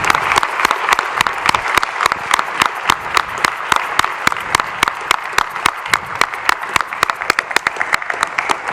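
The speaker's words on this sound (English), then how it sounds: "So please, let's give her a round of applause." An awards-panel audience gives a round of applause, with rapid, evenly spaced claps that are loud and close throughout and carry no talking.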